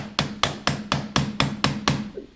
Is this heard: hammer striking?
yes